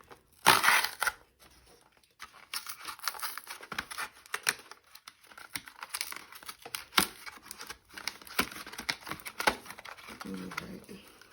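Cardboard skincare starter kit packaging is torn open by its pull tab, with a sharp rip near the start followed by scattered crinkling, tapping and rustling of cardboard up close at moderate volume.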